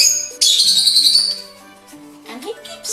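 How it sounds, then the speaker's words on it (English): A pet bird chirps and tweets in bright, rapid, high calls close by, with a person talking softly underneath. "And he keeps talking back, that bird."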